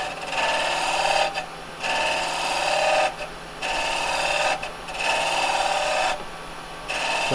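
Carbide chisel cutting wood on a lathe, the side of the cutter shaving the spinning piece: a steady, close rasping scrape in long passes broken by brief pauses, over a low constant motor hum.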